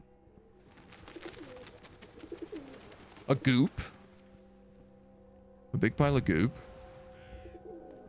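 Pigeon-like birds cooing in a train-themed video game, two short bursts of soft repeated coos against quiet background music, with someone talking lightly over them.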